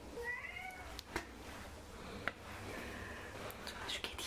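A house cat meows faintly a few times at night in a quiet home, thin drawn-out calls sitting low against background noise, with brief clicks and occasional speech.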